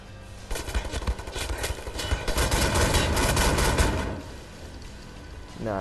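Dual shotguns fire in the video game Wolfenstein: The New Order: a loud, dense barrage of rapid blasts pounds for several seconds, then fades briefly before picking up again.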